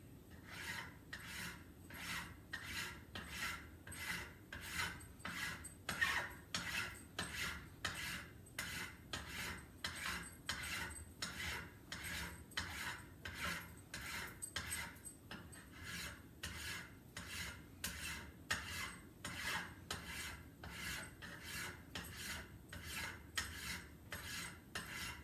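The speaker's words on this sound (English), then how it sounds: "you can hear as I'm filing, I'm picking up the file between every pass" Steady rhythmic rasping of a hand file on metal, strokes evenly spaced about twice a second, continuous and close with no talking.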